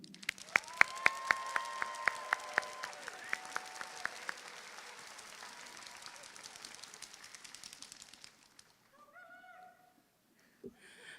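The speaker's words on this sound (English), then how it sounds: "Please welcome her with a huge round of applause, Kelly Hu." Applause from a graduation ceremony crowd fills the hall, a dense sustained clapping that fades away over several seconds, followed by brief faint sounds near the end.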